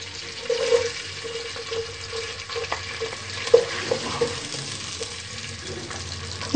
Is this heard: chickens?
no